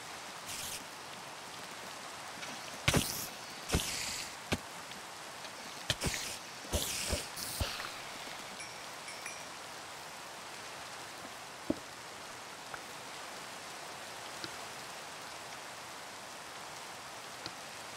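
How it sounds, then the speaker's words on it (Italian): Steady rain falls throughout a Minecraft world as a constant hiss, with a few louder rustling bursts and clicks early on, then settling back into an even wash of rain. "Un po' di relax con questa pioggia infernale."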